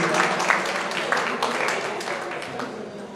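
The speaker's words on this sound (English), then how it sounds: "Give a round of applause, y'all." A crowd claps for drag performers New Way and Old Way at The Murder Ball 2, with steady applause filling the room for about three seconds and a voice faintly audible underneath.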